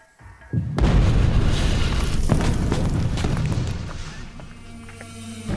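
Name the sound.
dynamite blast at a gold mine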